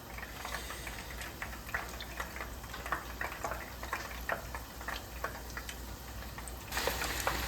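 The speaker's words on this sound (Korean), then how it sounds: "그냥 최대한 빨리 튀겨내고 나중에 한번 걸러내는 걸로 합시다" Food deep-fries in a pot of hot oil while cooking a Chinese dish at home, a dense, steady crackle of small pops and sizzles that stays fairly quiet throughout.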